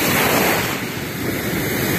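Sea waves wash onto the beach at Lazarevskoye in October, a steady, close rushing surf with wind buffeting the microphone, no voices.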